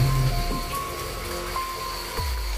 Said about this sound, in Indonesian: Ini juga cuacanya juga lagi hujan gitu.